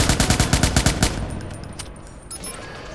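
A rapid volley of gunfire rattles out in the video game Watch Dogs, a fast burst of shots for about a second, then trailing off into quieter scattered sounds with no talking.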